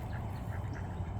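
Khaki Campbell and runner ducks quack softly in a quick repeated series, somewhat distant, with low background rumble.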